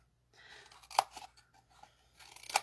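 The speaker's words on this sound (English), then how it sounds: "that's all our trimming with the scissors" Scissors snip through scored cardstock to trim the tabs of a tiny paper gift box, two crisp cuts about a second and a half apart, close and fairly quiet with light paper rustling between.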